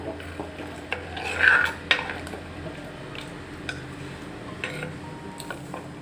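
Green chilies and asafoetida being stirred in a cooking pot for sambar, soft scraping and light metallic clinks of the utensil against the pot, with a louder stir burst early and a faint low sizzle underneath.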